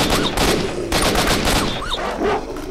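Rapid gunfire in S.T.A.L.K.E.R.: Shadow of Chernobyl, several sharp close shots in quick bursts with echoing tails, loud and filling the whole stretch.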